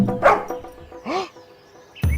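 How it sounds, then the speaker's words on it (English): A dog in a children's bedtime story makes a few short barks and yips, close and spaced apart, with a louder burst at the end. "Let me growl, snarl, and bark at them."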